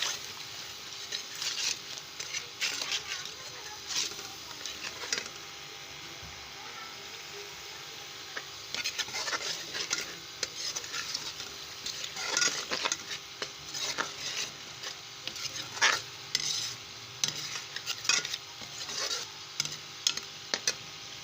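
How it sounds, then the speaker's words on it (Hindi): Masala with green chilies being fried and stirred in a pan for a matar aloo curry, soft sizzling under intermittent scraping and stirring clatter, with a few quiet pauses. "अब इसकी भुनाई करूँगी।"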